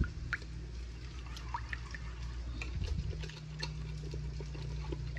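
A spoon stirs and mixes a watery chicken chilli sauce in a pan, giving soft liquid sloshing with light, scattered clinks and drips, close up and without talk.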